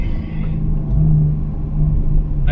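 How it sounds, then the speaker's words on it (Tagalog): A Porsche 911 Targa 4 of the 992 generation on the road, with a loud, steady low engine rumble and drone from inside the car that swells slightly midway and carries no speech. "Ang Porsche Targa 992 ay kombinasyon ng kagandahan ng 911 at saya sa pagdadrive ng half convertible."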